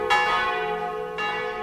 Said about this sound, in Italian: Le senti le campane? Sei a Roma, alzati!